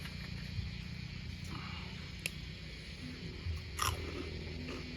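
Close, faint crunchy chewing and biting of crispy Shan-style stir-fried rice noodles with long beans, minced pork and tofu skin, with one sharper crunch toward the end and no talk.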